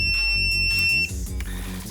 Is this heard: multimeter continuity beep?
yes